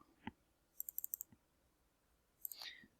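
Keys on a computer keyboard pressed during AutoHotKey scripting: a quick run of light, crisp clicks in a tight cluster, then a couple of isolated taps, close and quiet, with no talk.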